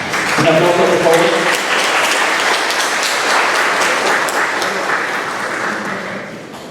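An audience at a lecture on constitutional control claps as a speaker is called to the stage, with steady dense applause that opens under a brief spoken announcement and slowly tapers toward the end.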